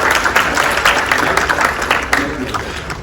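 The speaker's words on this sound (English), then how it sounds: "Round of applause." Brief applause from a seminar audience, a busy patter of many hands clapping at moderate volume throughout a few seconds, with no voices standing out.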